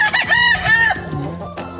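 A Talisain gamefowl rooster crows close by in one strong call, followed by a few throaty clucks, loud and clear in a backyard farm setting.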